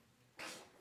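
A single short sneeze from a child, soft and brief in a quiet room during a church worship service.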